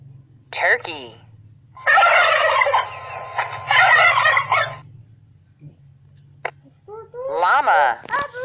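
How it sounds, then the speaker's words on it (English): Turkey gobbling in repeated bursts of rapid, rattling calls, loud and close, with short gaps between, set against a low steady background hum. "Turkey."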